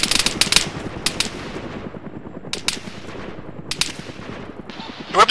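Gunfire in the video game Arma 3, loud rapid bursts of automatic fire with crackling shots in a dense rattling stream, several sharp clusters punctuating the steady clatter.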